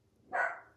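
A dog gives a single short bark, moderately faint and slightly distant, standing alone in an otherwise quiet indoor room.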